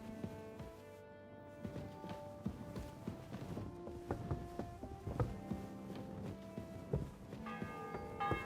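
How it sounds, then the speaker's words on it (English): Church bell tolling in the medieval video game Kingdom Come: Deliverance 2, repeated ringing strikes with lingering tones, faint and mixed with clip-clopping horse hooves and footsteps. "bell's ringing for Hans the 5th time."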